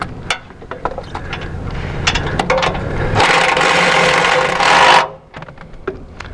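Mechanical ratcheting and rubbing clicks as spring tension is tightened on an AGCO Dynaflex AWS Airbar belt drive fan assembly, a scattered series of close clicks followed by a dense, loud grinding burst of about two seconds.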